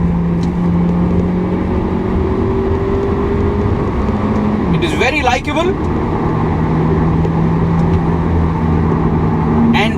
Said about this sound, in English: Try to listen to the engine if you can.